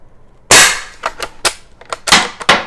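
A lever action rifle fires loud, sharp reports, each followed by quick metallic clacks as the action cycles and ejects spent shells; several shots and clatters follow in close succession with no talk.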